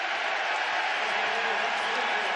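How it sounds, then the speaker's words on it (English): Basketball crowd inside Mizzou Arena at a Stephen F. Austin versus Missouri game gives a sarcastic cheer after a foul call, a steady, dense roar of many voices with no break. "a sarcastic cheer here inside Mizzou Arena"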